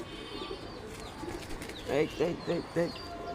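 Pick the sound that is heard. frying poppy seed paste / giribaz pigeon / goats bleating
giribaz pigeon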